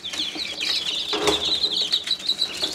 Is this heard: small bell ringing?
no